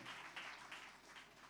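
A church congregation applauding at a special service, a soft, distant wash of clapping with gentle swells, fairly faint throughout.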